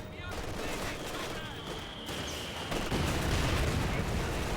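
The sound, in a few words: mortar fire in Company of Heroes 2 video game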